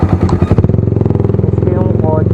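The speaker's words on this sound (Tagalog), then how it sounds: "Diba ganun kaingay itong motor ko guys." A loud motorcycle engine runs close by with a steady, rapid pulsing throb throughout, with no other sounds over it.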